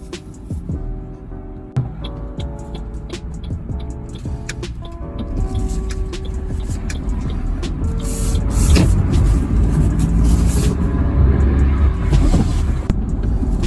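A 2023 Suzuki Grand Vitara GLX SUV drives steadily on the road, engine and tire noise building gradually, with occasional clicks and small knocks inside the cabin.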